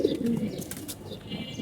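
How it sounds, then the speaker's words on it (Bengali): A stone-eyed pigeon coos softly and close by, a low throaty warble that runs briefly over a quiet background with faint chirps. "পাথর চোখের কবুতর"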